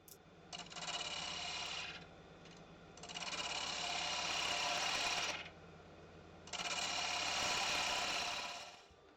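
A wood lathe trimming the end of a wooden bowler hat, a gritty scraping hiss of the tool cutting the spinning wood in three sustained passes with short pauses between them.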